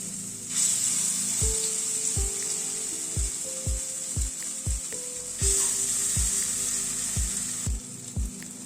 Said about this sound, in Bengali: তেলটা গরম হওয়ার পরে বড়াগুলোকে ভেজে নিচ্ছি